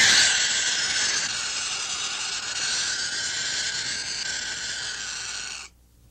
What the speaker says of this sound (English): That was the alarm cry of the burrowing owl.